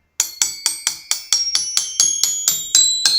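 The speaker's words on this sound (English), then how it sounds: "They're, pitched, tuned cymbals or bells" Crotales (pitched, tuned cymbals spanning one chromatic octave) ring out in a quick, even run of about thirteen bright, high metallic strikes, each note sustaining briefly before the next.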